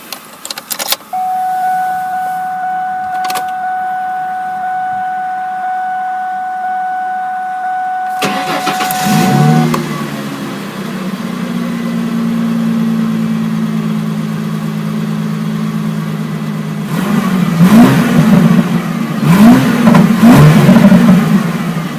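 A 2000 Ford Mustang Coupe: keys jangle and a warning chime tones, then the engine cranks and catches, settles into a steady idle, and the exhaust rises with several loud, close revs near the end.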